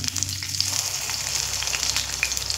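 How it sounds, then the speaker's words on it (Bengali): Shrimp paturi, prawns wrapped in leaf parcels, frying on a low flame in oil, an even, close, steady sizzle with faint crackles and no talk. "ঠিক দেখুন আমি কেমন ফ্লেমে ভাজছি, এরকম লো ফ্লেমেই কিন্তু ভাজতে হবে"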